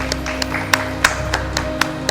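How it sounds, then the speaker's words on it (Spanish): Sparse, slow hand claps from a small audience at a lecture, about eight distinct claps spaced irregularly over two seconds, fairly close, with a steady background hum. "Vamos a darle un aplauso al cardiológico infantil."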